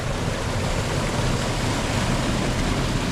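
Water rushes steadily through a small channelled watercourse once fitted with weirs and sluice gates, a continuous broadband wash close by with no talk over it.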